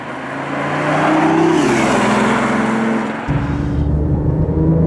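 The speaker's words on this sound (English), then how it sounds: "I guess that's not really how a 3-cylinder engine sounds" A small three-cylinder car engine accelerates hard, its pitch climbing, dropping at a gear change, then climbing again, loud and close from inside the car.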